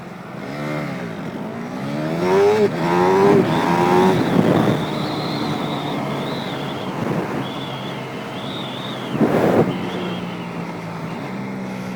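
KTM Duke motorcycle engine revving up and down through rev-matched gear shifts, loud and close, with rising and falling pitch sweeps, a steady drone between shifts and a sharp burst near the end.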